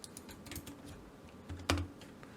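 Computer keyboard keys pressed while working in Blender, a few scattered soft taps with one sharper, louder keystroke near the end, alone without speech.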